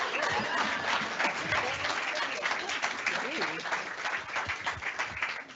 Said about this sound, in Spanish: Muchas gracias, un aplauso.